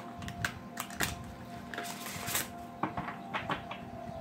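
Tarot cards are shuffled by hand, making soft irregular flicks, taps and rustles close up, over a faint steady hum.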